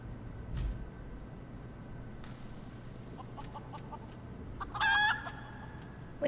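Chicken clucks and a brief crowing call in Final Fantasy XIV, heard over a steady low background hum, with a few sparse clicks and a louder clucking burst toward the end.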